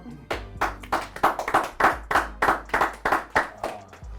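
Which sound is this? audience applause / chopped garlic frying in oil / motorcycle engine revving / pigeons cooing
audience applause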